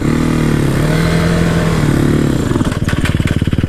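A four-wheeler quad engine runs loud and close, holding a rough steady drone before revving up. In the last second it breaks into a rapid pulsing throttle.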